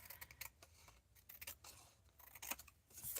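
Scissors snip repeatedly in quick, faint clicks while trimming something down, a close, quiet series of cuts without talking.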